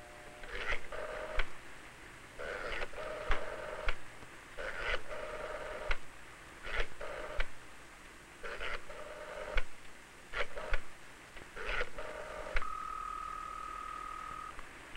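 A 1965 telephone is dialed, its short clicking pulses and tones recurring in irregular groups through a hissy, faint old recording, ending in a steady tone.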